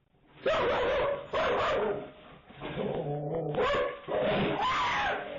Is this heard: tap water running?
no